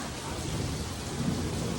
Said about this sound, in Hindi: इधर बिजलियाँ चमक रही है, बारिश हो रही है।